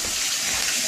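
A kitchen sink tap runs in a steady, close hiss of splashing water, constant throughout the short moment with no voices.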